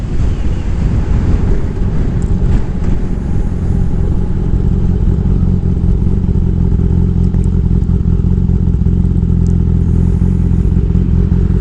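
A Kawasaki Ninja 1000SX being ridden on a sunny, windy day, its engine a steady low drone buried under heavy, continuous wind buffeting across the microphone, with no clear changes in engine speed.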